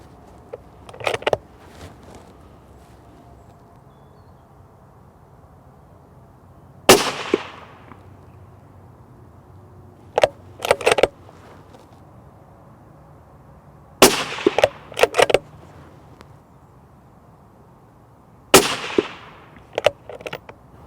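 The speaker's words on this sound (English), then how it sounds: "So I'm just going to take 3 more shots now." Rifle fired through a V8 riflescope, several sharp loud reports spaced seconds apart, some with trailing echoes, and bolt-handling clacks between them.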